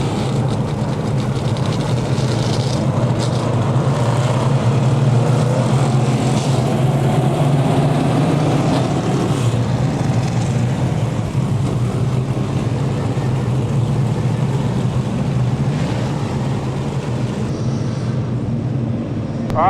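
A field of 358 modified race cars rolls under caution at Merrittville Speedway, a steady low engine drone filling the air with loud, continuous rumble; speech rises faintly under the noise.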